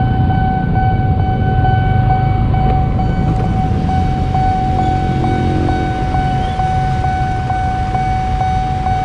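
An Indonesian KRL commuter train rumbles past on the line toward Lenteng Agung, a steady, loud roar of wheels and carriages with rhythmic clicks of rail joints throughout, close by and without talk.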